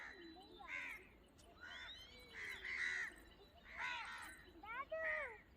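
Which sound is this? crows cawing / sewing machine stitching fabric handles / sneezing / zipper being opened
crows cawing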